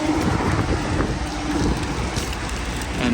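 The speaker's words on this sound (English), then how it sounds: "And my goodness, is the wind blowing." Strong wind blows steadily outdoors near Moab, Utah, a loud continuous roar buffeting the microphone with gusty rumble throughout.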